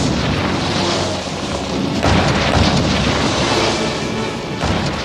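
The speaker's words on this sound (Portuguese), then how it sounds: "o rei George disparou seus canhões de 14 polegadas." Heavy rumbling booms of the battleship King George V's 14-inch naval guns firing, dense and continuous, with deep thuds rolling over each other at close range.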